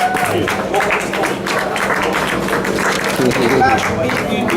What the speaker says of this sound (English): How about giving him a round of applause, y'all?